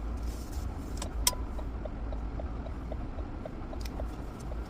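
Steady low rumble of idling cars in a grocery store parking lot, heard from inside a vehicle, with a faint regular ticking and a brief click early on, no voices.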